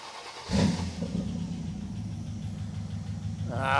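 A Dodge Charger crew cab engine turns over and fires, a burst of cranking giving way to a steady mid-pitched running idle that holds loud and close, rising slightly at the end.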